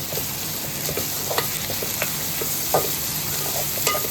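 Brinjal pieces with salt and turmeric are stirred in a hot pan for vangibath, with a steady close sizzle broken by irregular scraping and tapping of the spoon.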